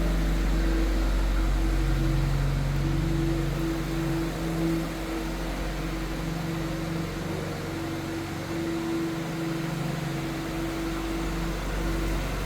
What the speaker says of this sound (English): So that is your remote engine start, cold start.